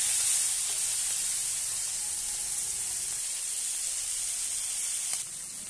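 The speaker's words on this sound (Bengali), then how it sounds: "কড়াতে আমি তেল দিয়ে দেবো চিংড়ি মাছটা ভাজার জন্য" Hot oil in a wok hisses steadily as shrimp fry, a continuous close sizzle that drops slightly in level just before the end, with no voices.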